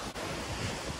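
Strong sea waves surge at a beach, a loud close wash of surf mixed with wind buffeting the microphone, one brief dip near the start, no voices.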